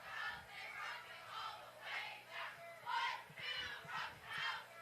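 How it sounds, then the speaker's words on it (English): A high school cheer squad at a varsity football game chants in rhythmic bursts, roughly six swelling shouts in a steady cadence, heard from a distance over crowd noise. "Big props to Staples cheer,"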